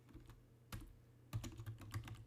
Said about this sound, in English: I'm actually typing this live